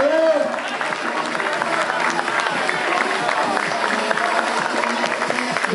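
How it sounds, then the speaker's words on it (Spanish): Audience applause and crowd noise for a cosplay team at a cosplay event, a sustained dense clapping wash with a voice briefly heard at the start. "aplauso para el Team de Loco Red"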